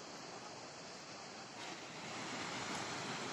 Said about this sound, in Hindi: पानी का, नदी में जो पानी चल रही है उसकी साउंड सुनिए।